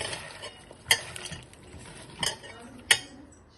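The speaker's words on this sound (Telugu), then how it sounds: "ఇప్పుడు ఇదంతా చక్కగా ఇట్లా కలుపుకోవాలి." Fish gets mixed by hand with spices, turmeric, salt and oil in a bowl, giving soft wet squelching under a quiet background, with three sharp metallic clinks against the vessel; no voices.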